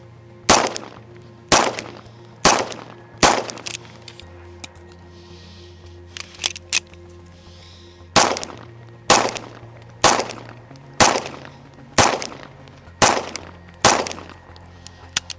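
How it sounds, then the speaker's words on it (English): Beretta PX4 handgun shots fired outdoors at a 50-yard target, a series of sharp loud cracks: three spaced reports, two fainter ones, then six more at an even pace of roughly one per second. "50 yards for handgun shooting is pretty far"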